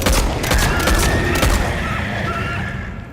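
Rapid bursts of heavy gunfire ring out in a first-person shooter game, a dense, loud volley of cracks and booms that thins out toward the end.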